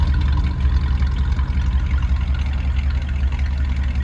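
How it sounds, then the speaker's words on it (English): A 1955 Chevrolet Bel Air with a V8 idles steadily close by, a deep, continuous low rumble with a slightly uneven throb and no voices over it. "You can hear the V8 running."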